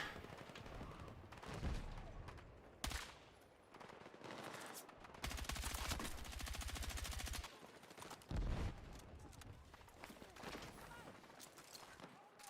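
Gunfire from a picked-up weapon in Battlefield 6 rattles in loud automatic bursts and single shots, with someone talking over and between the volleys.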